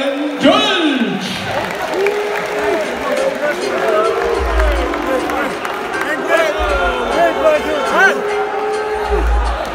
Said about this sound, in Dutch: Een groot applaus voor beide heren.